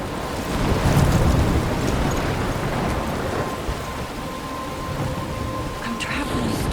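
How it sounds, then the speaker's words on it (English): Thunderstorm with heavy rain in the video game Life is Strange Remastered, a steady loud downpour hiss with low thunder rumbling early on, continuous throughout. "I'm trapped in a storm?"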